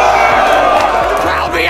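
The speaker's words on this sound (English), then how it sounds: "Crowd reaction" A crowd cheers and whoops loudly in a dense, continuous wash of voices, with a shout rising near the end, used as a reaction sound effect.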